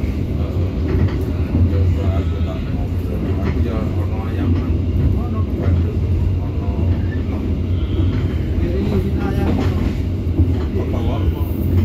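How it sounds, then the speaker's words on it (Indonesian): The Kutojaya Selatan passenger train at Banjar station in Indonesia gives off a steady, loud rolling rumble with faint wheel clatter, while muffled voices run underneath. "kereta api Kuto Jaya Selatan saat ini berada di stasiun Banjar."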